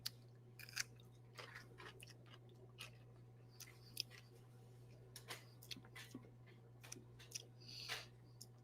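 Close, crunchy chewing of sour pickles, with repeated sharp bites and crisp crackles in an irregular rhythm over a steady low hum, fairly quiet, with no talking.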